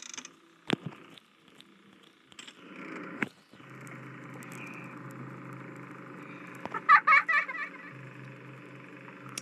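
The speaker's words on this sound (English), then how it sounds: "that's the noise of Balloon Boy that I don't like" Balloon Boy from the Five Nights at Freddy's 3 video game makes sparse creaks and thin mechanical noises, ending in a short burst of high, giggle-like sounds.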